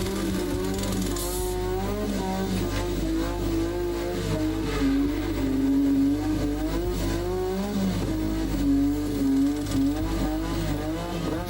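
A 1985 Formula One car, Alain Prost's, at the South African Grand Prix at Kyalami, drives into the pits for a tyre stop. Its engine drones and wavers in pitch throughout, steady and fairly loud.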